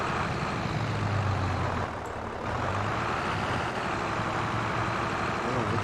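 A tractor engine in Farming Simulator 22 drones steadily with a low, continuous rumble and a slight dip partway through, staying loud and even with no talking over it.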